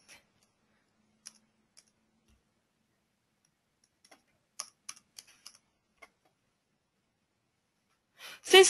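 Scattered keystrokes on a computer keyboard as coordinates are entered for a column-shortening construction analysis, quiet and close in short irregular bursts, ending in a louder rustle.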